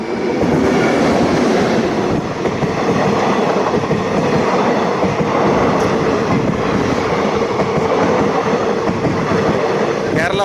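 A train rolls by on the busy Coimbatore to Palakkad line, a continuous loud rumble and clatter of wheels on rails sustained throughout, close and steady.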